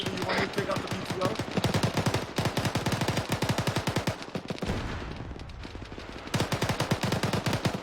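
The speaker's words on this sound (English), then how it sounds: "Taking a shot on that BTR." Automatic rifle fire in Squad aimed at a BTR armored vehicle, long, loud, close bursts of rapid evenly spaced shots with a short pause midway.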